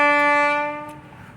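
A train horn mounted on a road vehicle sounds one loud, sustained, multi-tone blast that fades away over about a second.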